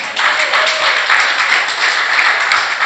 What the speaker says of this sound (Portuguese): então você pode dar um aplauso a Jesus